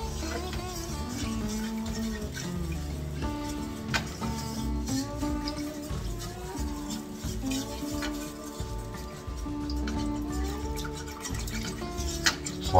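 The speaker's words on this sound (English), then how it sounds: "Let's go ahead and mix all this, whisk it together really good." A sweet and sour sauce mixture being whisked in a bowl, heard as a continuous rapid scraping and clinking of the whisk against the bowl, close and steady, with music playing underneath the whole time.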